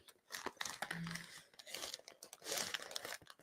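A plastic bag is handled up close, giving irregular crinkling and rustling bursts with brief pauses between them, fairly quiet and heard without talk.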